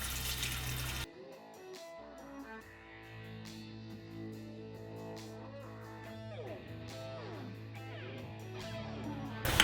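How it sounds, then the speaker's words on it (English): Eco Stain concrete stain is poured into a pump sprayer for a DIY brick-stamped concrete overlay, giving a soft, continuous liquid pour that runs quietly for several seconds over a faint steady background. "So now I'm going to go ahead and pour this into a pump sprayer."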